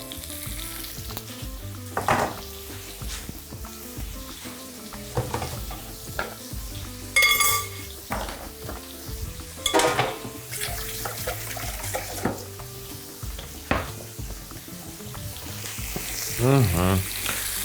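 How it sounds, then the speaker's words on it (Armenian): Broccoli fried in a few drops of vegetable oil for a beef and eggplant salad, with a steady close sizzle broken by stirring scrapes and brief bursts of running tap water. "Մի քանի կաթիլ բուսայուղ ավելացնենք և տապակենք բրոկոլին"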